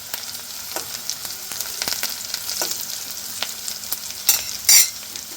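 Onions stirred with salt and asafoetida in a hot frying pan, a steady sizzle with repeated scraping strokes of the spoon, ending in a couple of louder clattering scrapes.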